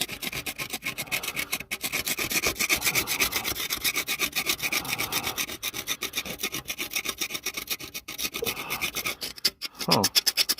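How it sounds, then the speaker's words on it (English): Residue being scraped off parts of a 1968 Mustang left sitting for 30 years, a continuous rough rasping and rubbing that repeats in quick strokes, close and steady throughout. "That stuff's scraping away."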